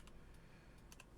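Faint, scattered keystrokes on a 65% computer keyboard, about half a dozen soft clicks in an uneven rhythm over a quiet background.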